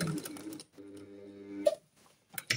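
Sewing machine stitching a seam on a fabric wipes bag: a short humming run of stitches with a brief reverse backstitch, close and quiet, followed by a few small clicks.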